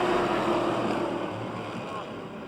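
Street stock race cars pull away together at the green flag of an eight-lap heat race on a speedway oval, a steady, loud engine roar that fades slightly as the field moves off.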